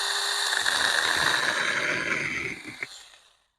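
A tiny chainsaw cuts through a small tree limb with a thin, buzzy motor whine that runs steadily for a couple of seconds, then winds down and cuts off into silence.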